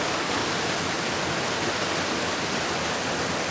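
A waterfall in Cleveland National Forest on the Chiquito Falls Trail pours in a steady, dense roar of broadband water noise, close and loud, with no voices.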